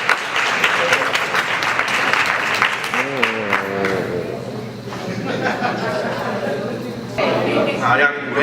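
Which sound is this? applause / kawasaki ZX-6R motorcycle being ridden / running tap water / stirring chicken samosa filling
applause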